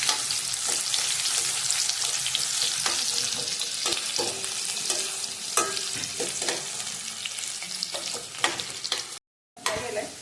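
Thinly sliced onion fries in hot oil for a mutton curry, a loud, continuous close-up sizzle with scattered clinks and scrapes of stirring and a brief dropout near the end, with no voices.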